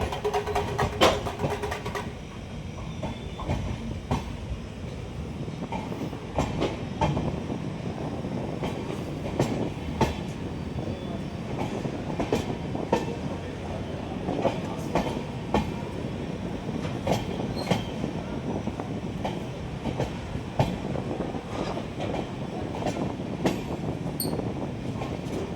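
Amritsar–Bikaner Superfast Express train 14720 running, a steady loud rumble with repeated clickety-clack wheel beats and occasional squeals throughout.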